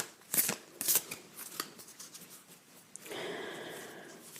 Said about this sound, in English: I'm going to start by the final shuffle on the cards to see what is coming about.